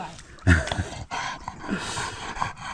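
A dog out on a hot summer mushroom-hunting hike through dense woods gives a short, loud whimpering yelp early on, then only faint movement and outdoor rustle follow.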